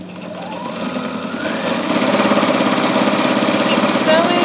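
A Husqvarna Designer 1 sewing machine stitches, starting slower and settling into a fast, even mechanical chatter that grows louder, close and continuous.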